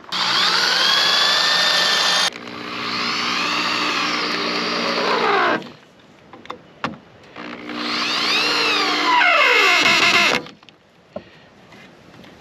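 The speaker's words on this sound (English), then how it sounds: "We go ahead and drill this side here" Two long, loud whines of a power drill driving into milled cedar for a garden bed, spinning and straining, each ending as it winds down, with a short pause and some clunks between.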